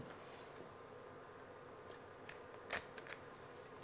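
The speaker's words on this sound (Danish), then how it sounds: "Så tager vi lige og klipper finderne af her også" Scissors snip the fins off a cod: a few soft, close cutting clicks, mostly bunched near the end, in an otherwise quiet room.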